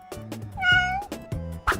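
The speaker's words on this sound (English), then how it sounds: "It's a cat." A cat gives one clear, drawn-out meow up close, framed by a few short, softer sounds before and after, with no talking.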